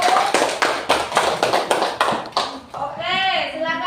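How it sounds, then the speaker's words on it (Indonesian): Classroom students clap for a group after its presentation, a burst of quick, near claps with uneven rhythm, followed by a voice and a short sung or called-out phrase. "Beri tepuk tangan dulu ke kelompok 1."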